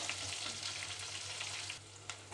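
Onions and curry leaves fry in a pan for a village-style gongura curry, giving a steady, dense sizzle with faint stirring scrapes throughout, no voices.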